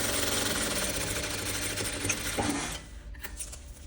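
A sewing machine stitching a seam along the edge of a stand-collar vest, a steady close whirring run of rapid needle strokes that slows and fades near the end.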